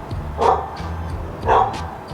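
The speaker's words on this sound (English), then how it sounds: "the dog was barking like crazy, wouldn't let me talk" A dog barks twice, about a second apart, each a short mid-pitched woof, moderately loud and a little distant over a low steady hum.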